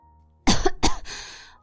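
A single short cough, two sharp bursts with a brief raspy tail, stands out clearly against a quiet, faint background hum.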